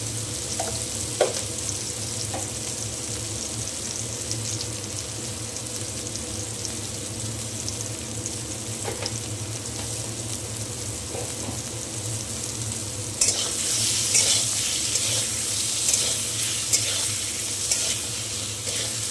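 Fish frying in hot oil with salt and turmeric, giving a steady close sizzle with occasional stirring clicks and a sharper, brighter crackle that rises partway through.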